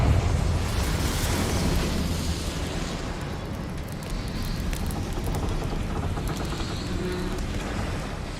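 A Confringo blasting spell exploding in Hogwarts Legacy, a loud rumbling burst that starts heavy and settles into a sustained roaring crackle and debris wash for several seconds.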